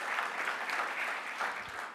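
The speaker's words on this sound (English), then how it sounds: "Big round of applause to the guys for doing that." An audience at an industry briefing applauds in a steady patter of clapping, moderately distant and fairly soft, sustained briefly.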